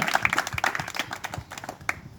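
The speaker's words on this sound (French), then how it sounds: "Applaudissons alors très très fort pour le Seigneur" Scattered clapping from a church congregation at a Catholic gathering in Bwamanda, Congo, a handful of distinct, fairly close hand claps in an uneven rhythm that thins out toward the end.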